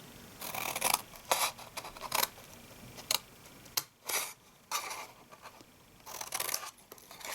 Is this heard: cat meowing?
no